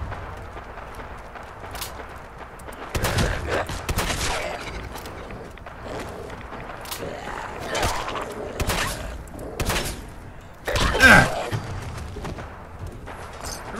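Shotgun blasts from Fallout 4 ring out in irregular bursts amid a busy scuffle, several sharp loud reports spread across the stretch with quieter clatter between them.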